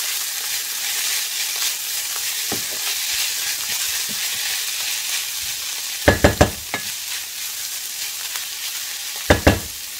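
Tomato paste and taco spice mix sizzle steadily in a hot pan for karnıyarık, with a few sharp spoon scrapes and clacks against the pan as it is stirred; no talking.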